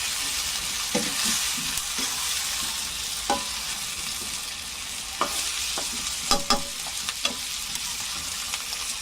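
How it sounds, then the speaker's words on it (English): Mushrooms fry with onion in a pan, giving a steady moderate sizzle and hiss punctuated by scattered clicks and scrapes of a stirring utensil, close by. "Fry the mushroom"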